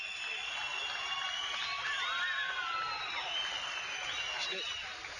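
Crowd applause and cheering fill a basketball arena during an İstanbulls versus Milano Thunder game, a steady, broad wash of clapping and shouts with some whoops, moderately loud and continuous throughout.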